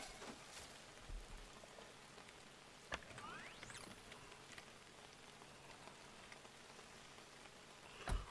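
Rain falling in the video game Nakwon: Last Paradise, a faint steady patter with scattered sharper drops and a short rising synthetic tone midway.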